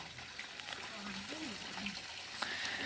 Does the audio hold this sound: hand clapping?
no